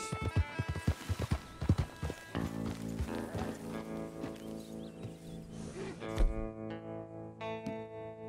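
Rapid clip-clopping hoofbeats of galloping horses in the video game Red Dead Redemption 2, with game music and effects layered over them, loud and busy throughout.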